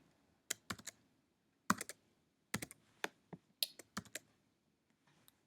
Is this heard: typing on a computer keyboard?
yes